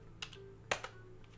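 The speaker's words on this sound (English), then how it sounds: "I tried typing 1." A computer keyboard being typed on during a Lingo puzzle game, with a few sharp, separate key clicks close by in an otherwise quiet room.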